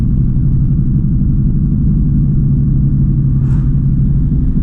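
Low, steady rumble of a newish pickup truck engine idling or cruising, loud and close with a constant droning hum and a brief faint higher-pitched blip near the end, no talking.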